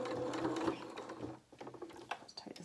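A sewing machine stitches a wool coat seam with a fast, steady whirr, pauses briefly, then resumes in short reversing bursts at the bottom of the seam, close and fairly quiet.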